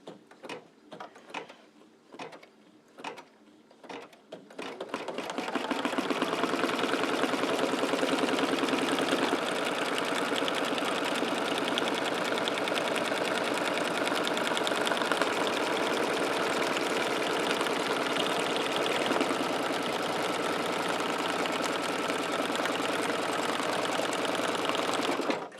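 An embroidery machine stitching a tack-down on cardstock with red thread starts with several separate clicks, then settles into a steady, fast mechanical whirr that runs loud and unbroken for about twenty seconds, close by, with no talking.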